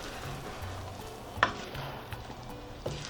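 Jalapeño cheddar rice mixture being stirred in a skillet, quiet scraping strokes over a soft sizzle, with one sharp clink of the utensil against the pan midway and a couple of lighter taps.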